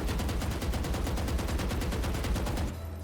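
Sustained full-auto rifle fire in Valorant, a rapid and evenly spaced burst of loud, close shots lasting several seconds before it cuts off abruptly into a low hum.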